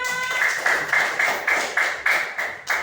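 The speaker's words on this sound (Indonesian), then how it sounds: "Kurang semangat, tepuk tangannya mana?" A classroom of students claps hands in a quick, even rhythm of sharp, close bursts, about five or six claps, with no talking over them.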